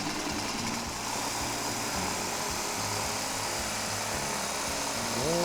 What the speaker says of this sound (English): Now we're going to go ahead and cut this.